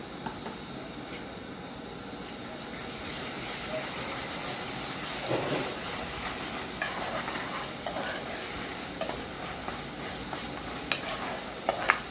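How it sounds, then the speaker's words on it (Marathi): Ginger-garlic paste added to fried onions in a pan for a potato and tinda dish, a steady close sizzle with a few scraping stirs and light clinks, no talk. "आता याच्यामध्ये मी हे अर्धा चमचा आलं लसणाची पेस्ट घालून घेते आहे।"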